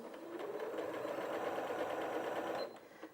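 A Janome 8200QCP sewing machine starts stitching, a steady close mechanical whir that runs evenly for a couple of seconds and then stops abruptly near the end.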